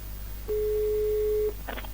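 A telephone line tone in the video game Agatha Christie: Murder on the Orient Express, a single steady pure beep held for about a second, clear and alone, followed by a short burst of higher chirping tones.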